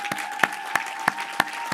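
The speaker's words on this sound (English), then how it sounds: "One more huge round of applause for what you just accomplished," Audience at the SVA MFA Computer Arts 2022 thesis screening for 2D animation and motion graphics claps in a handful of sharp, separate beats spaced roughly evenly, fairly close and clear, with no voices.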